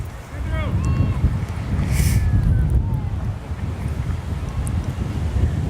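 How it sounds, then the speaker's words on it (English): Wind buffeting the microphone outdoors at a youth baseball tournament final, a steady low rumble lasting throughout with faint whistles and background sounds above it. "It is windy out here, so you will hear a little wind in the sound."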